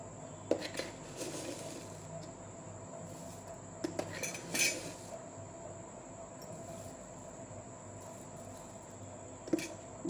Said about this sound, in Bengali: আমি স্ট্রেনারটা দিয়ে একবারে ফেটিয়ে নেবো, এবার ক্রিমের মতো করে নেব।